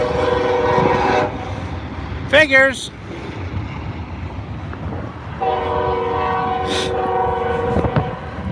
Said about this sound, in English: See, there goes a train.